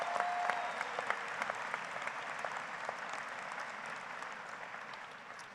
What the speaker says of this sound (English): Please give them a round of applause, too.